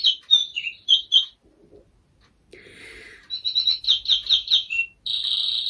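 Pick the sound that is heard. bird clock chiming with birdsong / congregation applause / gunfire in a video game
bird clock chiming with birdsong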